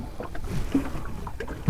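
A small fishing boat rocks on the water near a tribal village. Gentle water lapping and soft knocks sound close by, with light wind noise throughout.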